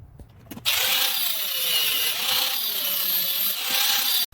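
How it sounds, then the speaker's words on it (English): A power saw cuts through a piece of old steel horseshoe, giving one sustained, loud grinding whine of a few seconds that starts abruptly and cuts off sharply. "So now I'm going to go ahead and cut this piece and that piece real quick."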